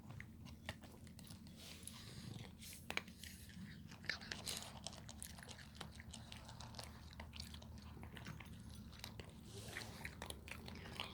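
Shih Tzu dogs chew and crunch their food steadily, with frequent small bites and crunches close by over a low background hum, no talking.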